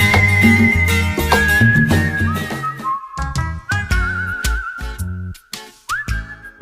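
Human whistling carries the melody in a Bollywood film song, a clear sustained whistled tune gliding between notes over a steady rhythmic music backing.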